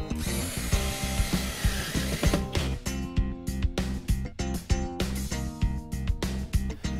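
A small cordless electric screwdriver for assembling flat-pack furniture runs close and loud with a whirring motor, first in a steady spin and then in a series of rhythmic ratcheting pulses.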